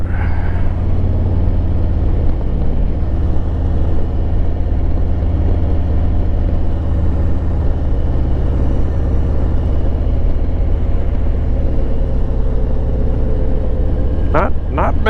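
A Harley-Davidson Road Glide Limited motorcycle cruises along a road on an after-work ride, its engine a steady loud rumble mixed with wind noise throughout, briefly broken by a couple of sharp sounds at the end.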